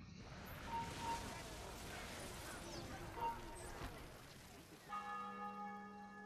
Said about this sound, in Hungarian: Harangoznak?